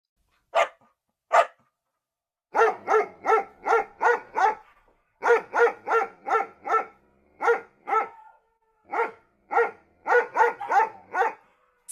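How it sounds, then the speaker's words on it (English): Dogs bark in clear, sharp repeated bursts, some in quick clusters and some spaced apart, loud and close with silence between barks and no talking. "Dog barking."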